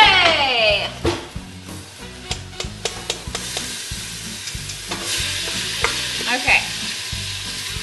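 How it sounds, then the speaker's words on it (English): Ground beef sautés in a pan with a little olive oil, giving a steady close sizzle broken by repeated scraping and clacking stirs, while a person speaks briefly. "I'm going to start letting my beef saute!"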